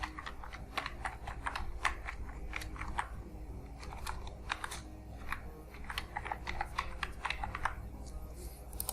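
Fast, steady typing on a computer keyboard while an email address is entered during a website setup, with dense irregular key clicks running throughout, close and moderately loud, and no talking.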